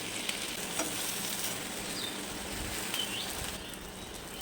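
Persian tawa kebabs frying in ghee on a flat griddle give a steady, moderately loud sizzle that keeps up without a break, with no voices.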